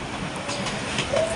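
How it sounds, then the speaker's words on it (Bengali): Paryatak Express intercity train between Dhaka and Cox's Bazar running at full speed toward Chattogram, a steady broadband rumble and rush of carriages with a brief squeal near the end. "ট্রেনটি তার পূর্ণ গতি নিয়ে চট্টগ্রামের দিকে এগিয়ে চলছিল"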